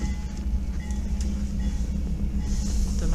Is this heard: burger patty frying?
no